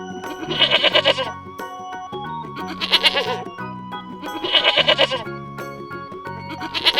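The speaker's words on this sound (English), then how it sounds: "sheep," Sheep bleating in three or four loud, wavering calls spaced a couple of seconds apart, heard up close over a steady background of sustained tones.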